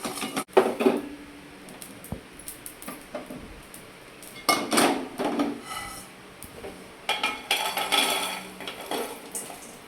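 Whole coriander seeds, cumin, cinnamon and cloves being dry roasted and stirred in a pan for guthivankaya masala curry, giving close, irregular clinks and scrapes of a metal spoon against the pan, alone without talking.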